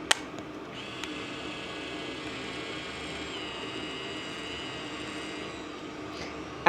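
A Canon ELPH film camera auto-winding its film after loading, a steady whirring motor hum that runs close and continuous for several seconds, with a small click at the start and end.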